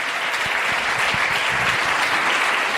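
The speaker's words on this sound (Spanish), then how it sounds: "Dale un fuerte aplauso al Señor en esta tarde" A church congregation claps loudly and steadily in a dense, sustained burst of applause that fills the room, with no distinct voices standing out.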